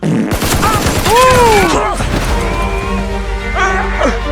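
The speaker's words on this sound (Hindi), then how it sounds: "हमें एक साथ गोली चलाना होगा 3 गिनने पे, ताकि ये बचे ना।" Loud, close bursts of gunfire from a Free Fire 3D animation, with sharp repeated shots and whizzing effects layered over voices and action sounds.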